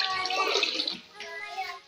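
About a litre of water splashes briefly into a pressure cooker while making duck pulao, with a soft voice faintly underneath.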